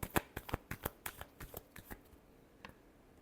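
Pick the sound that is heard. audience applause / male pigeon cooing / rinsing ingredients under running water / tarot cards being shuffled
tarot cards being shuffled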